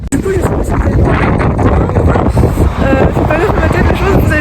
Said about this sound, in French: il y a genre trop de vent et tout